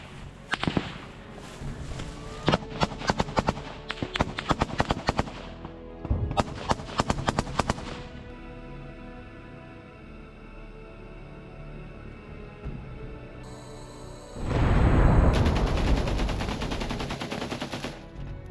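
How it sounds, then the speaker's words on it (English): A Ukrainian soldier fires a machine gun in a close-range firefight, with sharp, loud bursts of rapid shots in several volleys, then a roaring, noisy rush near the end. "A Ukrainian soldier opens fire with a machine gun"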